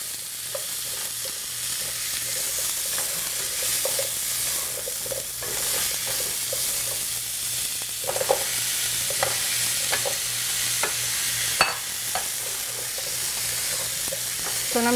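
Sweet potatoes tipped into a pan for futari sizzle and crackle steadily up close, with repeated scraping and knocking as a utensil stirs them through the hot fat.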